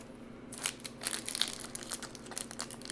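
A 2000 Topps Chrome trading card pack wrapper is worked open up close: a series of sharp foil crinkles and crackling tears in irregular bursts, with a faint hum beneath.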